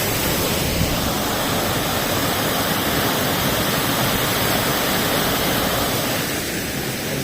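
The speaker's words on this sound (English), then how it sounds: "not exactly waterfall but a small stream" A small stream flows at Anmod Ghat, giving a dense, even rushing hiss of water that stays loud and close throughout, with no voices over it.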